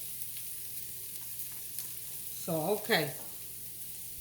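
Spinach and onions sizzling steadily in a skillet as a crustless quiche filling cooks, a soft continuous frying hiss with a few light clicks, while someone briefly speaks over it.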